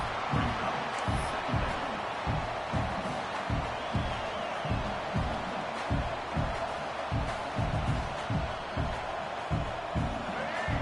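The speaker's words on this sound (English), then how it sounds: "The crowd getting behind this defense as they try to get a stop in the red zone." A football stadium crowd roars steadily through a game as the defense tries for a red zone stop, with a dense sustained wash of cheering and rhythmic pulsing swells from the stands.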